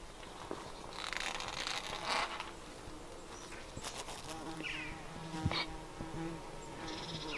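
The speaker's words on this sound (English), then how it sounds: "These cardoons, the bees absolutely love them." Bees buzzing close by on flowering cardoons, their drones rising and fading as they move around, with a few soft rustles and no talking.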